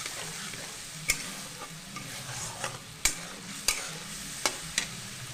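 Spice masala for a poli fish curry simmering in a pan after water is added, a steady close bubbling sizzle with several sharp clicks of a spoon scraping and stirring at irregular intervals.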